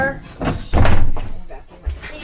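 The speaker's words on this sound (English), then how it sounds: "Closing my door." A school bus door closing during a CDL pre-trip inspection, a single solid thunk near the middle of the clip with someone talking over it.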